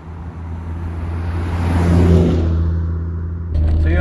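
An Audi S2 Quattro on KW V2 coilovers with solid mounts revs loudly nearby, its engine note swelling to a peak and then easing, with a brief extra burst of noise near the end.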